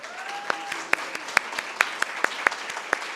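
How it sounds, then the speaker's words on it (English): An audience at a health conference event applauds, with sparse, distinct claps standing out over a soft room background and a faint tone, fairly near and alone with no talk over it. "Huge applause for this young guy"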